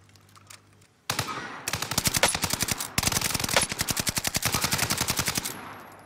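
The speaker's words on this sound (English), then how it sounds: "Somebody's got a non-suppressed gun." Unsuppressed automatic gunfire in a video game, a loud, sharp rapid rattle of evenly spaced shots that starts abruptly, pauses briefly, then resumes in long sustained bursts.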